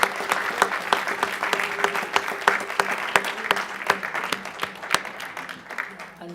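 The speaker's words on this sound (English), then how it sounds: "can you please give them a round of applause?" A crowd at a community volunteer awards evening applauds, steady clapping with sharp individual claps standing out, loud and sustained throughout.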